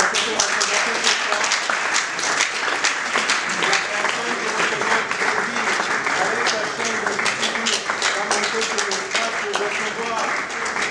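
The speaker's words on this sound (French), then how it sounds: "sous vos applaudissements" Loud, sustained applause from a crowd at an awards ceremony, with a voice speaking over the clapping.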